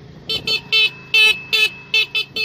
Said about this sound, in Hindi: हॉर्न भी चला चला